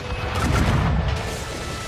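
Ship's cannons fire in the Assassin's Creed Rogue video game with a loud, brief booming blast that rolls into a deep rumble.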